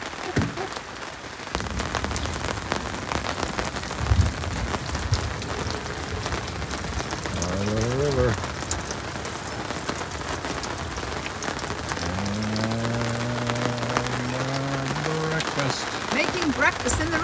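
Steady rain falls throughout at a campsite in South Africa, a dense continuous patter on surfaces, with people talking briefly over it.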